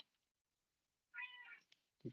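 A house cat meows once indoors after near silence, a clear drawn-out call, followed by a small tap and a brief low thump, close and fairly quiet, with no speech.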